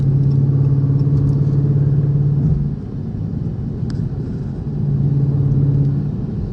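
Dodge Charger R/T driving in traffic, a steady low engine rumble inside the car with a drone that dips briefly as the throttle eases and then swells back, with no talking.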